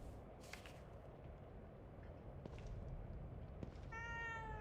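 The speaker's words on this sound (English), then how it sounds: "A cat? I don't ever remember owning a cat." A cat in the horror game The Evil Within 2 gives a short, faint meow near the end, after quiet ambient hiss with a few soft taps and rustles.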